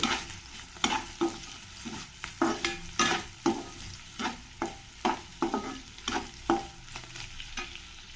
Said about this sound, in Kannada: ಇದನ್ನೆಲ್ಲ ಒಂದು ನಿಮಿಷ ಫ್ರೈ ಮಾಡ್ಕೊಳ್ತೀನಿ